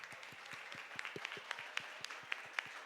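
A congregation claps during a church service, with steady, fairly rhythmic applause that sounds distant and soft in a reverberant room.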